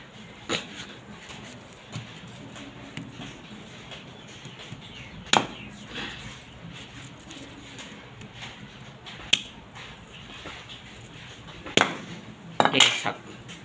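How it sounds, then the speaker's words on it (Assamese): A knife chopping food into small pieces on a board. Sparse, sharp taps come at irregular intervals over a quiet background, with faint clinks near the end. "পিচ পিচকৈ কাটিব লাগিব।"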